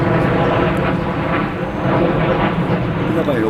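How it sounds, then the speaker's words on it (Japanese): An airplane passes overhead with a loud, continuous broadband rumble that swells and eases slightly as it flies by. "例えば今ちょうど飛行機が飛んできましたね"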